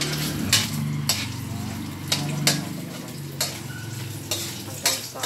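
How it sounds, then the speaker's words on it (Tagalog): Bean sprouts and vermicelli get stirred in a hot pan. Several sharp utensil taps on the pan rise over a steady close sizzle. "halu-haluin ko pa"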